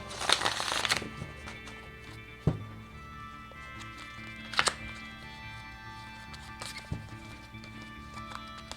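Tarot cards shuffled by hand, soft riffling and slapping of the deck in a few distinct bursts, close and fairly quiet, separated by stretches of low room hiss.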